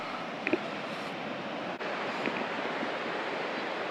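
Ocean waves at Surf Beach, California wash in as a continuous, broad roar of surf and wind, steady and fairly loud with no distinct breaks and only a couple of faint clicks.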